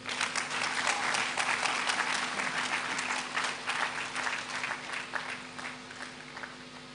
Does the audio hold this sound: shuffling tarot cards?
no